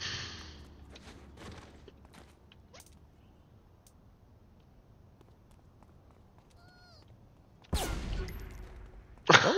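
Sniper fire in the video game Saints Row The Third: quiet in-game ambience with scattered thuds and footsteps, then two sharp, loud shot bursts near the end, with voices talking.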